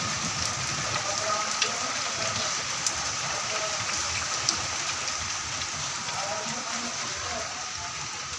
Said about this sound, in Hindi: भाई हमारे कितनी अच्छी वाली बारिश हो रही है